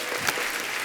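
Studio audience applause for a singer on a television comedy show, a brief, dense burst of clapping.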